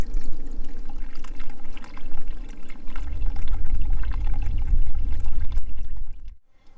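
Water from a garden hose pours steadily over an erosion model, a continuous splashing and trickling flow that swells in low rumble partway through before cutting off abruptly near the end.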